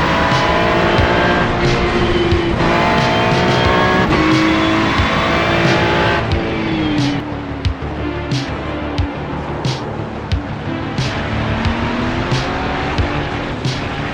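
GT3 race cars launching at a race start in iRacing, loud engines revving hard through rising gear pulls with tire squeal and a dense pack of cars roaring close by, no talk.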